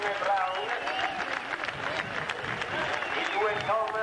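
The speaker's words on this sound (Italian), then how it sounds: "Giustamente vengono a raccogliere la loro messa di applausi" Stadium crowd applauding relay athletes at a 1988 European club athletics cup in Mogliano Veneto, continuous distant clapping and crowd noise under a commentator's voice.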